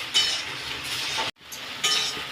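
Fried raw banana pieces are stirred with chilli powder in a pan, giving metallic clinks and scrapes over a soft sizzle, broken by one brief pause.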